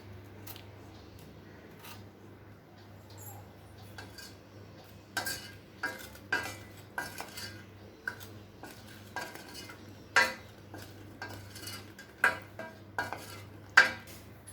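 Fried rava gulab jamuns slipped into warm sugar syrup in a kitchen pan, with scattered close clinks and light splashes over a steady low hum, growing busier toward the end.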